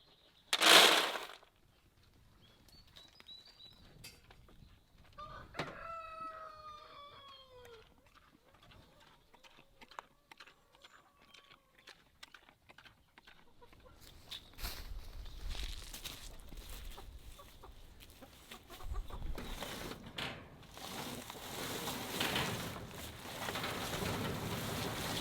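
Chickens on a small self-sufficient UK smallholding cluck in short bursts after a loud opening clatter, with a few faint crowing-like calls, then rustling and footsteps take over.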